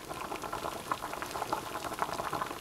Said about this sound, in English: Luckily, the Fancy Feast is still going, but yeah, it boiled over a little bit.